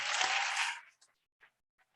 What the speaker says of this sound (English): we deserve a sounding round of applause